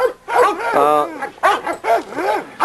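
A Tonka-bred dog in a dog yard gives a loud run of close yips, whines and short barks in several bursts, one after another.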